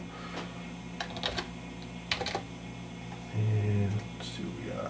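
Keys clatter on a computer keyboard as a model number is typed into a search box, a few brief bursts of clicks, close and moderately quiet, followed by a low hum.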